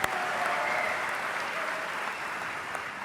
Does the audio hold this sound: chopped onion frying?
no